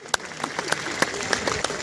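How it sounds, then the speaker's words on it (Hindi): Applause from a crowd at a political rally, moderately distant and fairly quiet, with several sharper claps standing out from the steady clapping. "जोरदार तालियों से अभिनंदन।"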